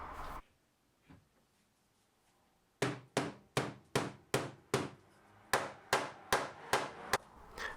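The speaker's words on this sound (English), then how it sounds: "hammer the dowels into place like before" A hammer drives wooden dowels into a bench built from an old door, with a run of about a dozen sharp, evenly spaced strikes close by after a couple of faint earlier knocks.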